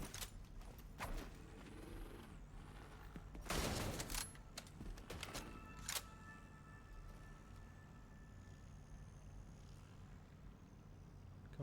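Gunfire in The Division 2, a scattering of sharp shots with one heavier burst of several cracks in the middle, followed by quieter ambient game noise.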